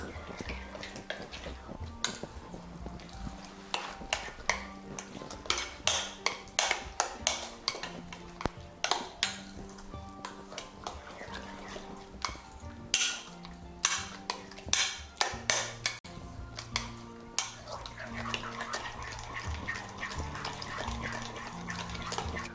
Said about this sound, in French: Continuez à mélanger.